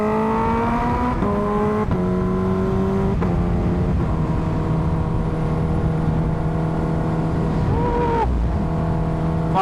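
A Kawasaki H2R motorcycle engine roars steadily during top-speed testing, climbing in pitch through repeated gear shifts, loud and close with constant wind rush.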